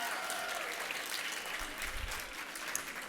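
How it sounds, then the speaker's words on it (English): Audience members at an annual awards ceremony applaud colleagues, a steady wash of clapping with a faint low rumble partway through. "Let's give a round of applause for all those colleagues"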